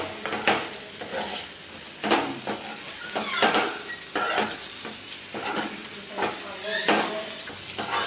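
Palak vadi stirred into sizzling spices in a frying pan: a continuous close sizzle broken by repeated scraping strokes of a spoon against the pan, roughly one every second.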